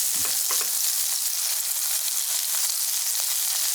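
Bitter melon fries in a pan with a steady, loud, dense sizzle throughout, plus a few soft stirring knocks near the start and no talking.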